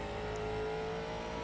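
A late model stock car engine from the iRacing sim, racing at Lanier, drones at a steady high pitch in a continuous near, loud tone with no voices.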